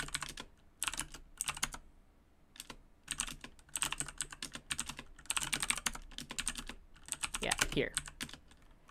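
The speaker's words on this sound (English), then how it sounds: "Let's type stuff out." Fingers type on a computer keyboard in rapid clattering runs separated by brief pauses, with a short spoken remark near the start.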